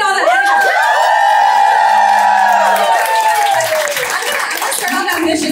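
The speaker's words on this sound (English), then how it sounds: "Let's do a big cheer." A crowd at the APALI 26th anniversary event at Cultivar House in San Jose lets out a big cheer, with high whoops and shouts over clapping that swell and then fade out within a few seconds.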